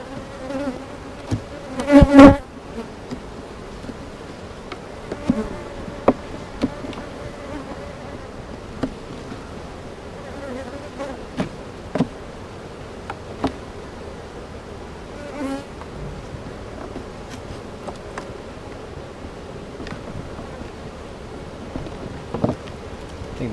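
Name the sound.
honey bees buzzing at an open beehive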